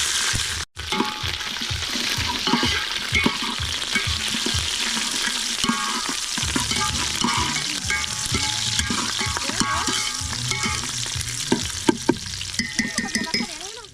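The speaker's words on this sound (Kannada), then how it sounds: "ಈಗ ಕರಿಬೇವು ಸೊಪ್ಪನ್ನ ಸೇರಿಸ್ಕೊಳ್ಳೋಣ, ಮತ್ತೆ ಈರುಳ್ಳಿನೂ ಸಹ ಸೇರಿಸ್ಕೊಳ್ಳೋಣ." Onions and curry leaves sizzle and crackle steadily in hot oil, with stirring scrapes and clinks from a spoon in the pan throughout, loud and close.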